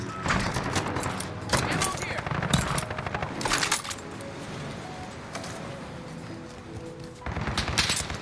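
SMG fire in the video game Modern Warfare comes in rapid bursts, close and punchy, separated by quieter gaps of game sound, with a player talking over parts of it.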